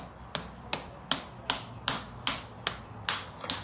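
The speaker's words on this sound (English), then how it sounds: "And I'm going to clap until my foot feels so tingly" Hands clapping on bare feet, nine crisp, evenly spaced slaps in a steady rhythm, close and fairly soft.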